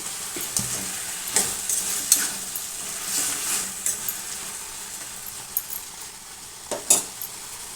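A spinach chutney mixture cooks in a pan with a soft continuous sizzle, broken by several sharp clinks and scrapes of a utensil stirring against the metal, close and fairly quiet with no talking.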